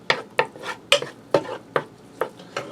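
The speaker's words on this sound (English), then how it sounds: "I'm going to stir that around for a minute, allow that to heat up and get fragrant" Garlic being stirred in a hot skillet for a pork and penne dish: seven evenly spaced scraping strokes of a utensil against the pan, close and clear, with no talking.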